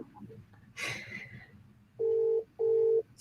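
A WhatsApp call rings out with two steady electronic ringback tones, each about half a second, following a brief noise burst, with faint background sound underneath.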